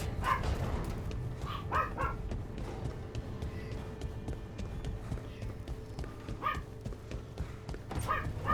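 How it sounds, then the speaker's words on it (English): Dogs bark in the background of a home while the game Dragon Age: The Veilguard plays, giving a few short, distant barks in scattered pairs over a steady low rumble of game sound. "Ignore the barking in the background."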